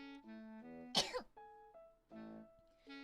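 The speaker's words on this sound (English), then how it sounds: "I had to clear my throat" A short, sharp throat clearing bursts out between sustained musical tones, brief and fairly close, with no talking.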